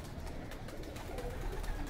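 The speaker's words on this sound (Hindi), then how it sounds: "फिरोज़पुरी कबूतरी है ये" A Ferozpuri female pigeon coos faintly, soft low murmurs half-buried in steady background noise, with no talk over it.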